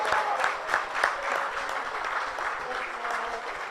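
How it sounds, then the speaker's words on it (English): Audience at an awards ceremony in Dar es Salaam applauds steadily, a dense wash of many hands clapping throughout, moderately loud and sustained. "a big round of applause once again"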